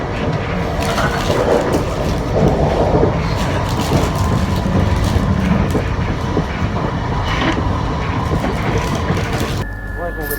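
A crowded commuter train in the Seine-et-Marne area outside Paris rumbles loudly and steadily from inside the carriage, with dense clattering wheel noise throughout and a brief drop in level at the very end.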